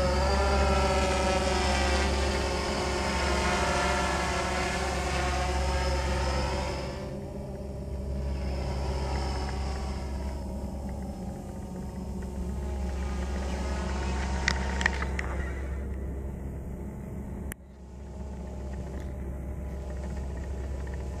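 A Blade 350 QX3 quadcopter drone carrying a CGO2 camera and gimbal hovers and flies nearby. It gives a steady, loud motor whine with tonal harmonics that rise and fall slightly as it moves, alone and without talk.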